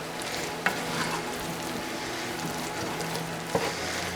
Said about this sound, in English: I'm going to stir this and cook this around.